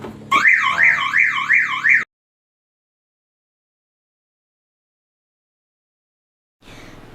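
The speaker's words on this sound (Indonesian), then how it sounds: "contoh sistem alarm pada mobil kijang kapsul yang telah dipasang oleh remote control" A Toyota Kijang Kapsul's remote-armed car alarm wails loudly with a rapidly warbling, rising-and-falling siren for about two seconds, then cuts to silence before a faint noise returns.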